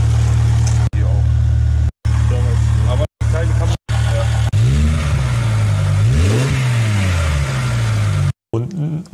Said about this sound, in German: Und nicht von dem geilen V10-Sound ablenken lassen